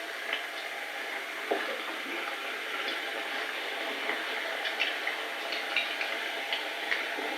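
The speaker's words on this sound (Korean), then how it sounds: "이렇게 해서 서서히 튀기시면 돼요" Potato croquettes deep-frying in hot oil give a steady, quiet sizzle with small crackles and light ticks scattered throughout, with no voices over it.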